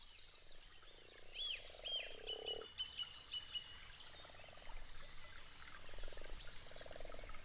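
Frogs croak in a pond habitat with repeated pulsed, rasping calls in several bursts, moderately close, with faint bird chirps over a steady outdoor background.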